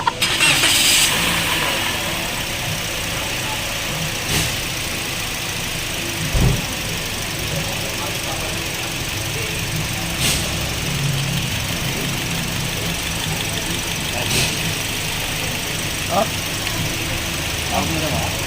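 A Toyota Vios with a rough idle and misfire, heard in a workshop as the engine turns over and then runs unevenly with occasional knocks and thumps. People talk intermittently over it.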